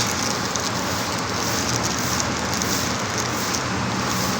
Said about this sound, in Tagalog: umuulan nga pala. Pagpasensya nyo na yung background natin.